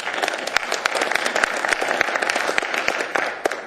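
Applause from the audience at a special assembly meeting, a dense run of many hands clapping that stays steady and fairly loud throughout, with sharp individual claps poking through.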